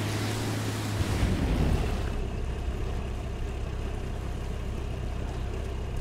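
A boat in Far Cry 5 pushes loudly over waves, with a steady wash of water, engine rumble and wind roar, a low tone fading out early on.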